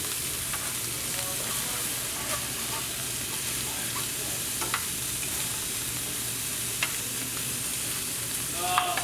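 Food sizzles steadily in a pan dressed with rice wine vinegar and grapeseed oil as it caramelizes, a continuous close frying hiss with scattered small pops and stirring clicks, no talking.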